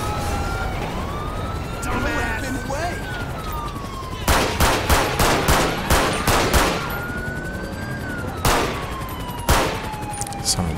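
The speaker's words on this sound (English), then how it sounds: "Shots fired in Davis. Why am I? Gunshots reported." Gunfire rattles in the GTA V police mod during a Christmas episode: rapid bursts of shots over a wailing police siren, with a few later single cracks, while people talk.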